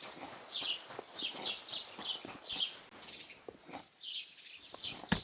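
Horse hooves clip-clopping in the medieval role-playing game Kingdom Come Deliverance 2, a steady run of soft, close hoof beats mixed with chirping birdsong and ambient outdoor game sounds.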